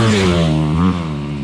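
Honda CRF250R four-stroke dirt bike engine revving hard up close, a loud rising then falling whine over about a second and a half.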